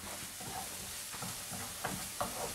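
Chopped parsley stirred into cooked garlic in a pan for Portuguese salt cod fritters, a soft steady sizzle with scraping strokes of the spoon, close and fairly quiet, with a few sharper clicks near the end.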